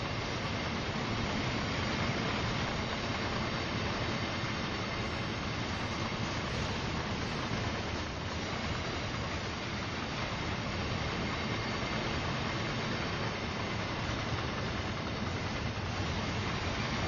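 A train engine drones steadily and loudly in a train simulator game, a dense continuous rumble that holds without a break and with no voices over it.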